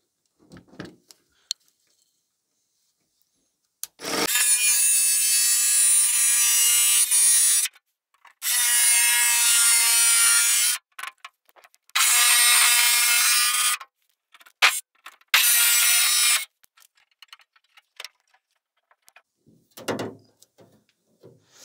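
A jigsaw cuts a Renault Kangoo car body panel in three long steady bursts, each a few seconds, with short pauses and a few brief starts between them, loud and close.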